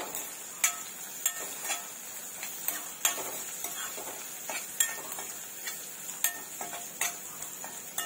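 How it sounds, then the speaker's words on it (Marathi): Curry leaves are stirred in a hot pan for a red pumpkin curry, with steady light sizzling and repeated ticking scrapes and taps of a utensil against the pan, close and fairly quiet, with no one talking. "कढीपत्ता घालूया. चांगलं मिक्स करून घेऊया आपण."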